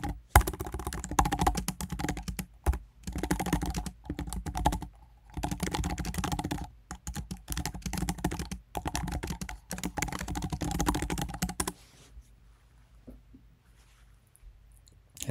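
Someone types on a computer keyboard in quick, close bursts of clicking keystrokes with brief pauses, before the typing stops and only a quiet room remains.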